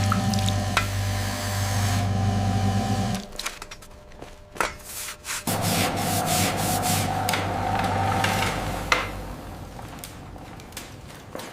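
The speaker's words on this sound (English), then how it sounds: "Apprentices scrub the armor with vinegar and sand in large wooden troughs." Plate armor scrubbed with vinegar and sand in large wooden troughs, a continuous gritty rubbing and scraping with a low hum at first, then wetter, rougher strokes and occasional knocks, close and steady.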